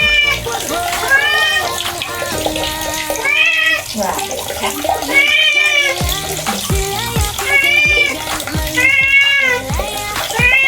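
A neutered cat being bathed yowls loudly and repeatedly in long, rising meows over running water, the cries coming in bursts with short gaps between them.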